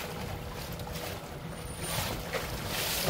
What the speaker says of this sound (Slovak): Elektrická loďka